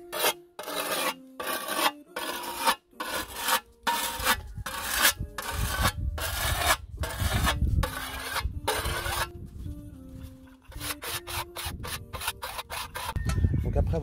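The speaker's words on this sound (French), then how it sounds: "après avoir affiné la lame" A file is drawn along a scythe blade to sharpen it, making a rapid run of loud, close rasping strokes in a steady rhythm. A short pause near the middle comes before a faster burst of strokes.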